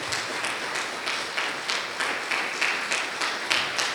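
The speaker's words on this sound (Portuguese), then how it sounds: "Então aplauda Jesus pela vida dele." Church congregation applauding in a steady, fairly loud patter of many clapping hands, with faint bursts of cheering over the top and no speech.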